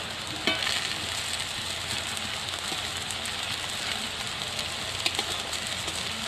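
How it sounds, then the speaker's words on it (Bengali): Cabbage and rice flour pakoras frying in hot oil give a steady, close sizzle with soft crackling pops throughout, and no voices. "এই যে বড়াটা ভাজা হচ্ছে"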